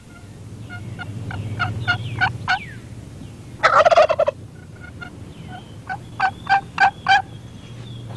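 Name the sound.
turkey gobbler gobbling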